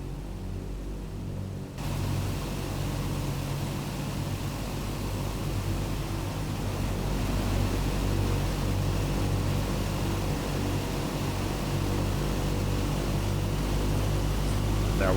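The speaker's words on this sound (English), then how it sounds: "You can hear the engine speed increasing." Douglas DC-6 propeller engines in Flight Simulator 2020 drone loudly and steadily, the broad roar swelling gradually as engine speed rises, with a constant rumbling hum filling the whole stretch.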